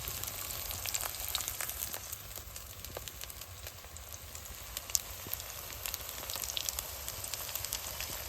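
Shefali leaf fritters fry in a small amount of oil swirled around a wok, making a soft, steady crackle with scattered faint pops, fairly quiet and with no voices.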